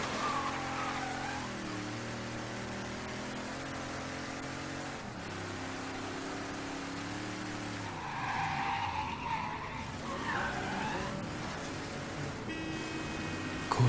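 A car in the video game Mafia 3 drives at full throttle, its engine rising and falling through gear changes, then tires squeal and skid loudly midway, close and continuous with no talk.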